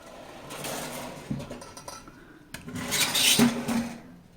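Steel kitchen cooking pots and utensils clatter and clank in a few sharp, close metallic knocks and scrapes, with a louder jangle near the end and no speech.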